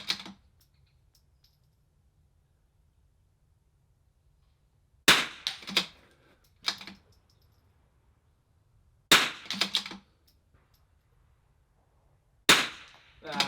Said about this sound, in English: 2 shots left, 2 shots right.